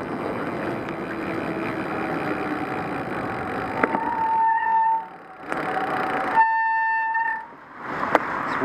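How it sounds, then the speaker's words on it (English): Loud, roaring bicycle disc brakes in the rain with piercing squealing tones that cut in and out, stopping abruptly twice before starting again. "Those are disc brakes. They sound like"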